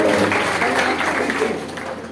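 Applause from a seated audience at a spiritual talk on working without worry, a dense, sustained clapping that fills the room and tapers slightly at the end.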